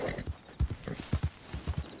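Hooves of a horse clip-clop in a steady, close rhythm in the Red Dead Redemption 2 game world, with a faint whinny mixed in and no talking.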